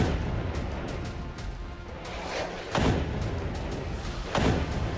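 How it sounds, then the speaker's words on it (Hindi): A Hamas rocket blasts apart after an interception, heard as heavy booming thuds over a dull rumbling background, two stronger impacts standing out among fainter thumps, somewhat distant and without voices. "पहला रॉकेट इंटरसेप्ट, लेकिन दूसरे रॉकेट ने धमाका कर दिया।"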